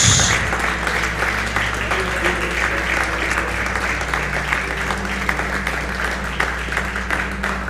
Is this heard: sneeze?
no